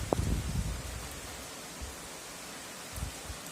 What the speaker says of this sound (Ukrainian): чуєте, як шумить, як шумить дощ